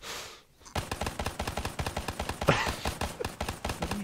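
Rapid automatic gunfire in Call of Duty 3 deathmatch play, a dense string of sharp closely spaced shots rattling on for several seconds after a brief quiet gap.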